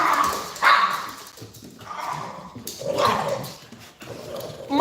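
Several dogs bark and yip in short, irregular bursts close by, some barks sharp and loud, others softer with a whimpering edge.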